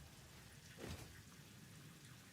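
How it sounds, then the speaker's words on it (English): Steady rain in the video game Satisfactory, a continuous wash of hissing patter with a brief swell of heavier sound partway through, no voices. "I'm so glad they brought rain back, by the way."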